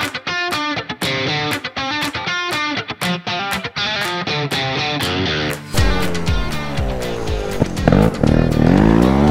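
Dirt bikes pull away onto a trail, engines revving hard in rapid throttle blips, then rising into sustained, overlapping roars as several machines accelerate off. The sound is loud and close, and no one talks.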